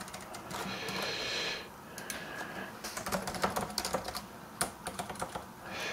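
Keys clatter on a computer keyboard in irregular bursts of close, crisp taps, with a brief lull before a faster, louder run of typing.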